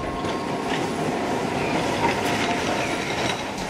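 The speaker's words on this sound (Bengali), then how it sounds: "অফিস টাইমের ভিড়ে ঠাসা একটা ট্রাম এগিয়ে আসছে" A crowded rush-hour tram in Kolkata rolls closer with a continuous rumble and rhythmic wheel clatter on the rails, moderately loud, with faint squeals and no voices.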